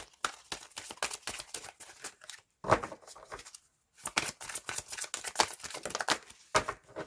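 Tarot cards being shuffled and drawn, a rapid run of crisp riffling flicks with a brief pause in the middle, then more close, dense card snapping and slapping; no talk over it.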